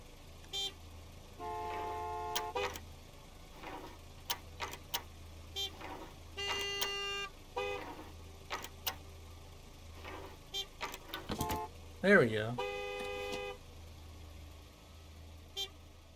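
Car horns honk at the fuel pumps in Gas Station Simulator, a string of short separate toots and beeps spread across the scene over a low engine hum, with a brief spoken remark in between.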